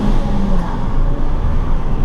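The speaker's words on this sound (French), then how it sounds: "je vous mettrai quand même le son à l'échappement quand même, juste pour apprécier un peu" A Peugeot 208 GTI with 200 hp lets out a low, steady exhaust rumble from close behind, running continuously without speech.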